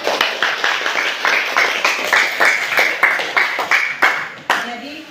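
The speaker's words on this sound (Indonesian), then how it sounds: "Oke, kita berikan tepuk tangan." Clapping in a classroom lesson, a rhythmic series of about a dozen distinct loud claps in bursts, close by, with a voice briefly near the end.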